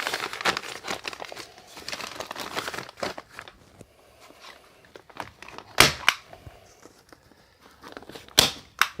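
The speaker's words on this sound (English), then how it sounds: "Now there's a couple of different ways to staple this insulation in." Insulation is stapled to wall studs during a bathroom remodel: close crinkling and rustling of the facing, broken by a few sharp, loud staple-gun snaps at irregular intervals.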